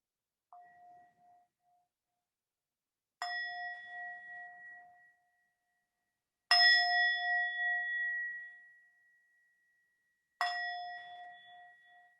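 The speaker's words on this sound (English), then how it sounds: "Opening to the sounds of the bells now." Meditation bells ringing during a mindfulness practice, four separate clear metallic strikes, the first soft, each tone ringing out and fading slowly before the next, with silence between.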